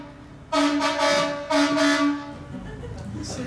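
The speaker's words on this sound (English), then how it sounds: "That's a fire truck." A loud, blaring fire truck horn sounds in two long blasts with a short gap between them, then fades into background traffic noise.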